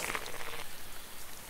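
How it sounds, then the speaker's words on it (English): Steady hiss of rain ambience from a StarCraft 2 game map, a dense, even patter filling the background with no voices. "I think it's the rain on this map for some reason"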